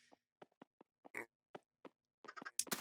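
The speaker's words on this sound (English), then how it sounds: "Here I am with some pigs." Pigs oinking in Minecraft, a video game, a series of short, separate grunts and squeals in irregular rhythm, close and fairly clear against a quiet background.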